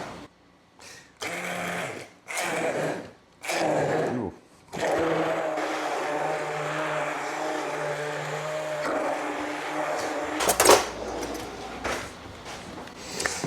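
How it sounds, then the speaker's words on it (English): An immersion blender purees strawberries for homemade jam, whirring in several short bursts before running into one steady, close, humming blend, followed by a brief clatter near the end. "I'm going to use my immersion blender here,"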